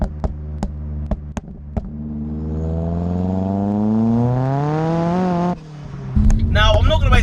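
A Ford Focus RS with a 355 bhp hybrid turbo engine accelerates hard from inside the car. Engine pitch climbs steadily through a gear before a shift, then pulls again, loud and close, with a person talking over it.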